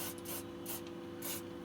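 Short spray bursts wet down disassembled parts from a Suntour HESC CAN e-bike motor being torn down, three quick hissing blasts over a steady low hum, close and fairly quiet.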